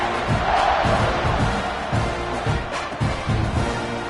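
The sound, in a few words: football stadium crowd buzzing and cheering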